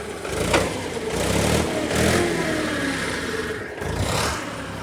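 A tractor delivering sand and stones to a new cow-shelter building site revs its engine in surging waves, a steady mid-pitched roar swelling and easing over a few seconds, with no voices.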